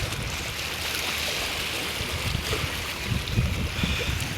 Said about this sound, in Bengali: আমি এখন আছি একদমই নদীর পাশে।